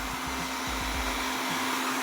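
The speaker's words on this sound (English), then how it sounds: "So that is actually suctioning very loudly for a vacuum, surprisingly." An ILIFE A11 robot vacuum runs at high suction speed, a loud, steady whine with a constant hum and no pauses.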